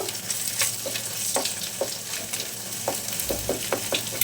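Egg with salt stirred in a frying pan for a winter-vegetable noodle breakfast: repeated scraping spatula strokes over a steady close sizzle, with no talking.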